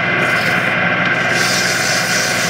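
Sandpaper rubbing back and forth over a resin casting with an embedded bug, a loud, close, continuous scratchy hiss that runs unbroken and cuts off abruptly at the end.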